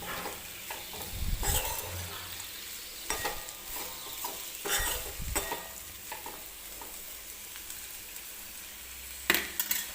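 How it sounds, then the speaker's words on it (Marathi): Green bean pods (ghevda) stirred and mixed in a kadhai for a Marathi vegetable dish, a series of close scraping stirs and rattles in irregular bursts over a faint sizzle, with no talk. "तर हे बघा छान असं मी हे मिक्स करून घेते."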